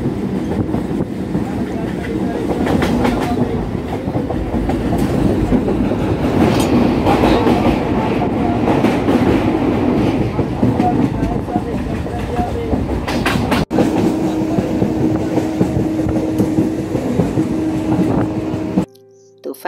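A running train heard from a window seat inside the carriage: a loud, continuous rumble with steady clickety-clack of wheels on rails, persisting throughout and briefly dropping away at the end.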